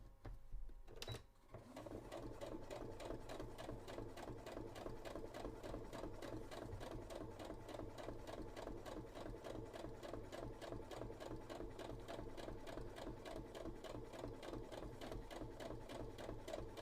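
Sewing machine basting together corset belt mock-up pieces for a Sisters of Battle cosplay, a steady fast stitching rattle running continuously and close after a brief handling knock at the start.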